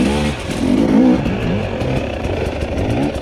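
Husqvarna TE300i two-stroke dirt bike engine revving hard on a rocky trail, a loud, continuous buzzing drone that rises and falls with throttle throughout, close up and alone.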